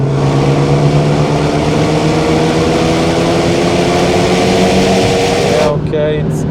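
Renault Megane III RS engine droning loudly from inside the car, holding a strong steady tone before dropping off near the end, with someone speaking over it.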